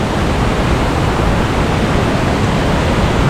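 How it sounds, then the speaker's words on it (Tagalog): Anbang Falls, a waterfall at a rock formation in Colonsabac, Matanao, roaring as a loud, dense, unbroken rush of falling water with no voices. "Yun yung falls."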